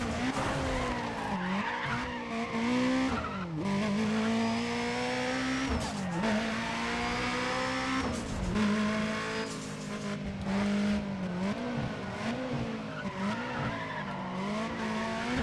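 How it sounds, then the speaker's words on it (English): Race cars in the Need For Speed ProStreet video game, with sustained tire squeals and engines rising and falling as they skid, a continuous loud roar running for about fifteen seconds with some sharper bursts, and no talk. "Oh, someone's crashed. Someone's pranged it."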